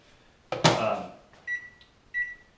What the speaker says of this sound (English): she's ready to go in the microwave